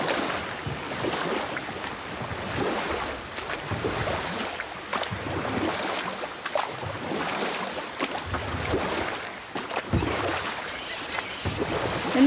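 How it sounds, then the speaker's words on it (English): Oars pull a small boat through water in the game God of War, with rhythmic splashing strokes over steady lapping waves and a light wind across the whole stretch. "Keep rowing towards the statues of the oarsmen"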